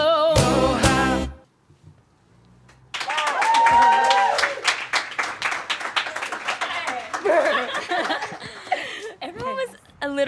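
An audience at a small live performance bursts into applause and laughter right after a song ends, following a brief loud sung phrase and a short pause; the clapping is close and lively, with chuckles and voices among it.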